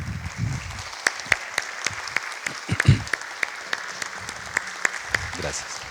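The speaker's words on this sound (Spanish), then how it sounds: "recibamos con un fuerte aplauso al maestro Marcelo Beltrán" Scattered audience applause at a tribute concert by a guitar ensemble in Quito, a modest run of separate distinct claps with a couple of brief low voice fragments between them.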